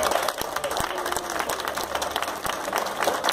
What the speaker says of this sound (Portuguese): Então é merecido uma salva de palmas